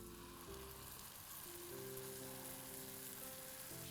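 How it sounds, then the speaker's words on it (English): Vegetables sauté in Musallam gravy in a pan with a soft, continuous sizzle and frying hiss that stays quiet and steady throughout, with no talking. "Saute and let the vegetables just get the flavor of the gravy"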